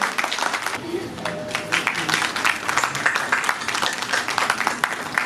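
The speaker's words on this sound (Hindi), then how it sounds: "जोरदार तालियों से इस प्रोग्राम की शोभा और बढ़ाई जाए।" A crowd at a foundation day program of a Dogra community trust in Delhi claps steadily in uneven bursts, with voices talking over the applause.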